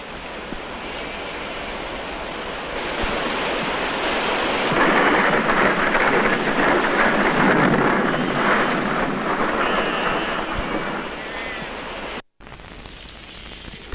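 Heavy rain pours down hard in a thunderstorm, a dense, continuous roar that swells louder in the middle with rumbling thunder underneath, then briefly cuts out before resuming steadily near the end.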